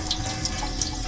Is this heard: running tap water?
yes